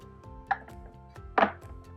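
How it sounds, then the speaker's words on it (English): A Kuvings EVO820 citrus attachment bowl is set down on the juicer base, making two short plastic clunks, the second louder, over a faint steady motor hum. "all you have to do is set the bowl down"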